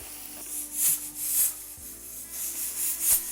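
Steady sizzling and crackling of onions frying in hot ghee, with a constant low hum underneath and no one talking.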